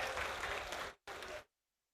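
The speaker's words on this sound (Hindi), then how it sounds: "जोर से ताली बजाओगे तब मजा आएगा" Crowd at a Bharatiya Janata Party political rally applauding in a dense burst of clapping that stops briefly, resumes for a short second burst, then cuts to silence.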